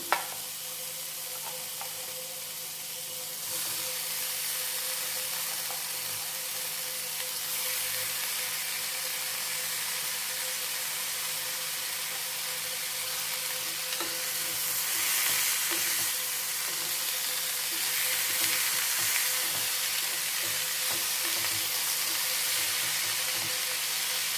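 Chopped tomato fries in a pan for a snake gourd chutney, giving a steady, even sizzle with faint stirring scrapes, close up and without any talking.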